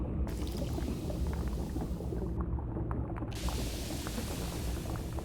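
Thick, viscous goo in Half-Life 2 bubbles with a low, bassy grumbling rumble under a steady hiss, a continuous churning murmur with no talking.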